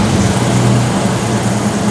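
A BMW V12 engine idles rough with a misfire, a loud, steady, low rumble held close and unbroken for a moment.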